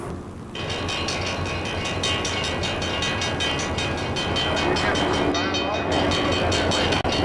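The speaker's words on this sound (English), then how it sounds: "look at some awesome trains" A train rolls past close by, its steady broadband rumble and rhythmic clatter holding level throughout, with a brief hiss near the end.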